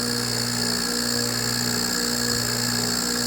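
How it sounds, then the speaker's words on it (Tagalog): A split-type air conditioner's outdoor compressor runs with a steady, even mechanical hum and drone, close and constant for a few seconds, with no talking. "Ito yung compressor natin."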